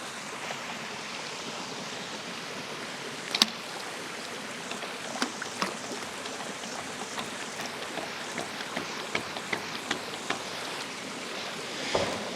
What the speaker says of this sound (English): pop this end right here into the water and shake it back and forth, and hopefully water will begin to fill this tube